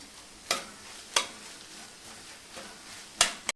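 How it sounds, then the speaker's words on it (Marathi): A spoon stirs fenugreek leaves together with potato, onion and peas in a pan, giving several soft scraping strokes with a gentle sizzle beneath, fairly quiet and close. "आता आपण ही मेथी टाकून घ्या मेथी पण बटाटा कांदा आणि मटारमध्ये शिजून घ्यायची छान मिक्स करायचं"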